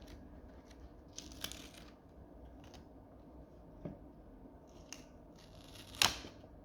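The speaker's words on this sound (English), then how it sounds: "we are going to remove the stencil, make sure the tape has come off" A paper stencil is peeled away and tape pulled off after stippling printing, heard as a few faint, scattered dry rustles and crinkles in a quiet room, ending in one sharper tearing rip.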